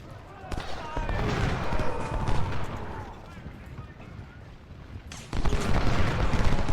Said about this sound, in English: They're going to pour canister into the McHenry